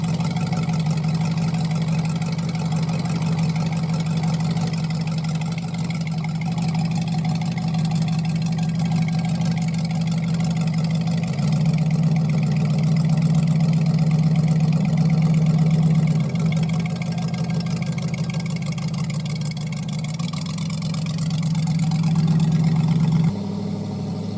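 A one-off, custom-built, street-legal show car sits idling with a steady, close, low engine hum that barely changes, swelling slightly near the end.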